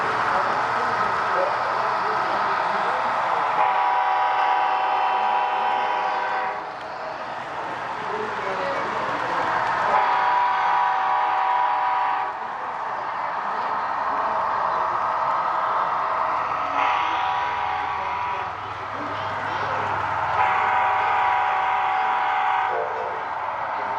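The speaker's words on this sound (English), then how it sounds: "Here comes a train now that's got 4 powered engines, 2 up front, 1 in the middle," A model train with four powered engines rumbles along the track at a farm show, its humming motor drone swelling and fading as it passes, accompanied by steady mechanical clatter.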